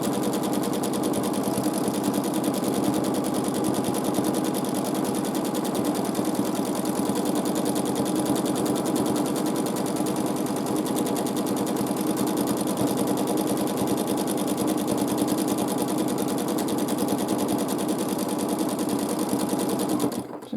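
Sewing machine running nonstop during free-motion quilting of feather plumes on a large quilt, a loud, steady mechanical whir with constant needle chatter for the whole stretch, no talking.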